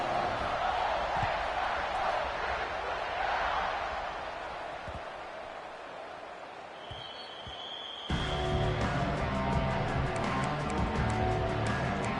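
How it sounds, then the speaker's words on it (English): Stadium crowd at an American college football game in Ohio, buzzing after a score, a broad steady roar of many voices that dips for a few seconds, then swells back up with band or music layered in. "this crowd is buzzing after that last score"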